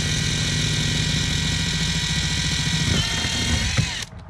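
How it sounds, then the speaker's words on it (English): A power drill bores holes through the plastic hull of a Nirvana Watersports Striker skiff, running as a steady loud whine with a slight pulsing rhythm for about four seconds before cutting off abruptly. "It's not that hard to drill."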